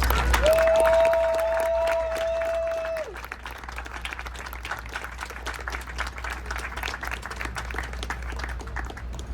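Audience applause at a poetry reading welcomes the poet: steady mid-distance clapping from a small crowd carries on for several seconds, with a sustained tone sounding briefly near the start.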